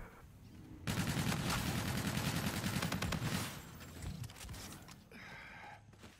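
Sustained rapid gunfire from a 1v1 video game match, dense bursts of automatic shots running loud for several seconds before easing into quieter trailing shots.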